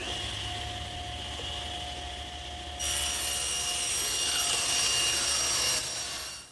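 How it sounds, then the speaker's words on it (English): A table saw rips a sheet of plywood, a steady close motor whine with a broadband cutting roar that grows louder and brighter partway through, then eases off near the end. "now I'm going to rip it on the table saw"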